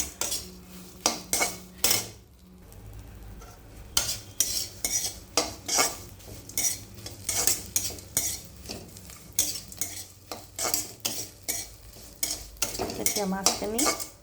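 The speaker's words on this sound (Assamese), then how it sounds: "তাৰ কাৰণে মই এই নিচলা মাছবোৰ ভাজি আছোঁ" Small nichla fish frying in a pan for a prawn and bottle gourd curry, with repeated loud metal utensil clinks and scrapes over a soft sizzle, close by and without talk.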